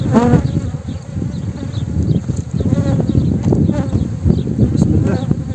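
Honey bees buzz densely from an opened beehive, a close, continuous swarm hum with scattered individual buzzes passing near.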